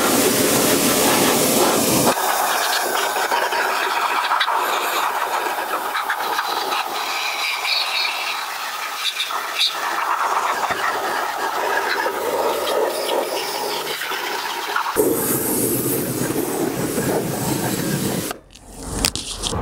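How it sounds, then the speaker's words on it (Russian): A car brake caliper, with the wheel removed, is sprayed clean of dirt by a pressure washer, a loud continuous hissing water jet that changes tone as the spray shifts, close up and without speech. "Далее смываем грязь."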